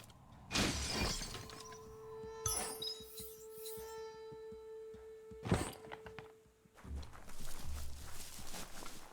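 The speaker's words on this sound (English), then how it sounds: "You shouldn't worry about smashing up the box" A wooden box is smashed up in Biomutant: a sharp crashing shatter, then scattered thumps and debris clatter, another loud smash, and a rough crunching burst near the end, all close with no talking.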